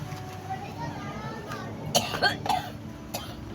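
A few short coughs close by, mixed with a voice speaking nearby; the coughing comes in a brief cluster near the middle.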